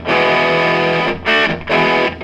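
An electric guitar played through a Jekyll & Hyde distortion pedal rings out in loud, saturated chords, one long sustained chord followed by two shorter stabs with brief gaps.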